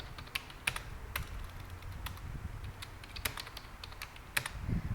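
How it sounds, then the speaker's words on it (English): Someone typing an equation on a computer keyboard: light, irregular key clicks in quick clusters, close and quiet over a soft background hum. "So let us first type the equation"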